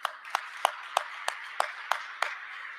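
An audience claps at a morning forum as the speaker is welcomed: eight sharp, evenly spaced claps about a third of a second apart, fairly near, with room ambience between and no talking.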